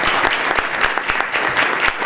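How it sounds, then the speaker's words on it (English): Audience applauds student panelists at the close of a 2018 student panel event: steady, dense clapping from a crowd, fairly loud and continuous for about two seconds with no talking. "we have a final round of applause for our panelists"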